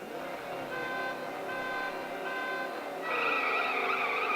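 In the CSR Classics racing video game, a car engine drones steadily with tonal whines and a tire-skid squeal, rising in pitch and intensity after about three seconds; no one speaks.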